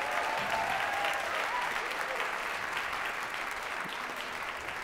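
A concert audience applauds a university jazz orchestra in a sustained, dense round of clapping that stays fairly even and slowly tapers toward the end.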